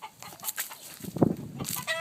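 Chickens, a rooster and a hen, cluck in short, uneven bursts close by, with a louder squawk midway and a few faint background noises.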